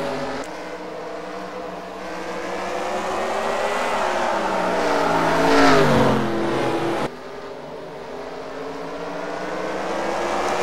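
A pack of NASCAR stock cars roars and accelerates on a green-flag restart at South Boston in NASCAR Racing 2003, engines rising in pitch as they pass close by, loud and sustained with one car sweeping past mid-clip.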